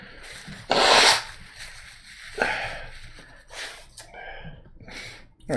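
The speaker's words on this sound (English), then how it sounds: "I'm gonna blow my nose." A person blows their nose, with a loud rough honking burst followed by shorter snorts, sniffs and rubbing noises close by.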